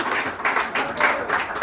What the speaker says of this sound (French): j'aimerais qu'on remercie et qu'on applaudisse l'équipe de BAI